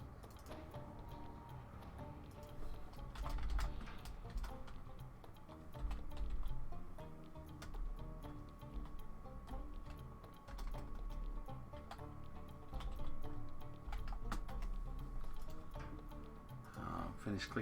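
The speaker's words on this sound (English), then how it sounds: "Finish clicking all these buttons." Buttons are clicked on a computer keyboard or mouse during play: a scatter of sharp, light clicks at an irregular pace over a steady bed of game music and ambience.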